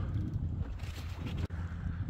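Steady wind at sea buffeting the microphone on a small rowing boat, pushing against its side, with a deep, continuous rumble, briefly cutting out near the end.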